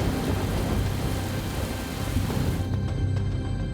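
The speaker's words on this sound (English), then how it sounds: "unleashing a year's worth of rain in under a week" Heavy rain pours steadily during Hurricane Harvey over Houston, a dense, loud wash of downpour with low rumbling thunder rolling underneath and a few sharper cracks near the end.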